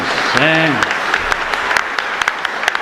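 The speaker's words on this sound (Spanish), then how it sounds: "un fuerte aplauso para ella" A congregation applauds at a Catholic mass in a chapel in Luque, steady dense clapping filling the room after a voice speaks briefly at the start, with sharper individual claps standing out near the end.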